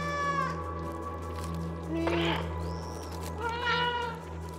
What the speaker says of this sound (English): I guess I know how to meow.